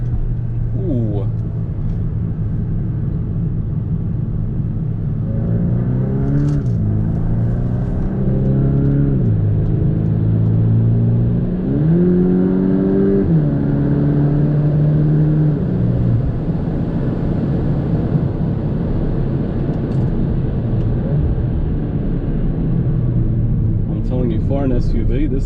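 A Volkswagen T-Roc R SUV's engine revs and pulls through rising gear changes while driving, a loud steady rumble with climbing pitch sweeps, voices talking over it at times.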